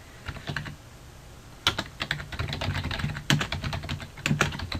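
Rapid typing on a computer keyboard, a burst of clicks, a short pause, then steady runs of close, moderately loud keystrokes with a few harder taps.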